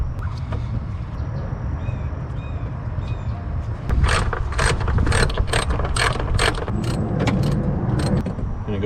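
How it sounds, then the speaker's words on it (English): Mechanical work on a 4th-gen Toyota 4Runner engine bay while the coolant reservoir tank is removed: a steady ratcheting tool, clicks and plastic-and-metal clatter, busier in the second half, close up with no talk. "To start off, I'm going to remove the coolant reservoir tank."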